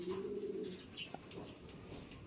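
Pigeons coo in a racing pigeon loft, a low throaty coo up close followed by softer calls and light rustling in the background.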